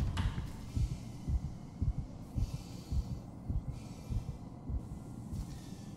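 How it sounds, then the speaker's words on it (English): A character's heartbeat thumps in the horror game Dead Space, a slow, soft, regular pulse of low double beats repeating steadily under quiet ambient hum. "I thought I could hear Isaac's heartbeat for a second."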